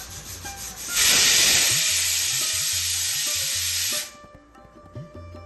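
A pressure cooker on a medium flame, cooking bajra khichdi with dal and rice, vents steam in one loud, sustained hissing whistle lasting about three seconds. Quieter rhythmic kitchen sounds come before and after it.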